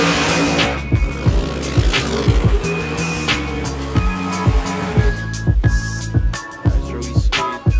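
A race car skids on a track with repeated tire squeals and an engine revving through the slide, loud and close, in a series of sharp bursts.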